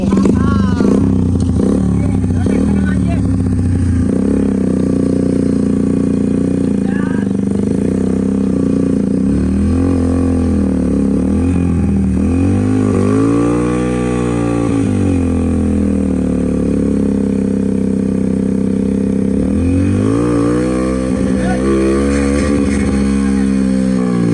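Motorcycle engine straining to pull a trolley loaded with soil, with throttle and brake cables broken; a loud, close, continuous engine drone rising and falling in pitch with clattering under it, and voices talking.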